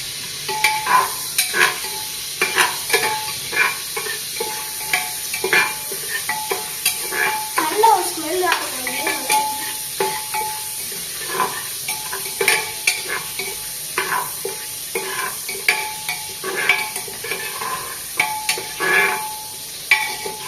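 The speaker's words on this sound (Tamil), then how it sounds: "நல்லா எண்ணெய் வெந்ததுக்கப்புறம் பிரியாணி இலை, கிராமு, பச்சை போய் இதில் போட்டுக்கலாம்." Bay leaf, cloves and green chili frying in hot oil for chicken biryani, a steady close sizzle with repeated stirring scrapes and clinks throughout, and no one talking.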